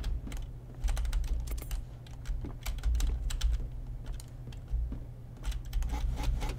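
Rapid computer keyboard clicking during a gaming session, a steady stream of close, crisp keystrokes in uneven bursts over a low constant hum, with no talking.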